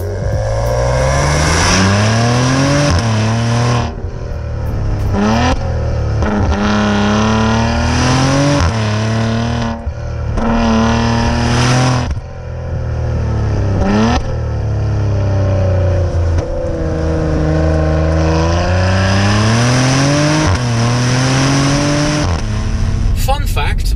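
A Maserati Levante SUV accelerates hard through repeated gear shifts, its exhaust note rising and dropping in loud sweeping pulses, with occasional tire noise and people talking inside the cabin throughout.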